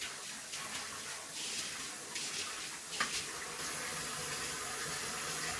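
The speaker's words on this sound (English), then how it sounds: "And after this, just wash your face slowly" Water runs from a tap while a face is washed slowly, a soft steady splashing stream with light shifts as hands move through it, heard nearby and without speech.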